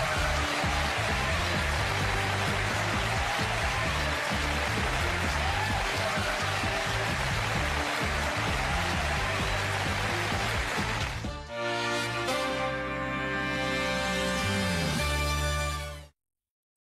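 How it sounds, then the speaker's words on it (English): A television studio audience gives long, loud, dense applause that holds steady for several seconds, then gives way to music before cutting off. "I'm humbled by that applause"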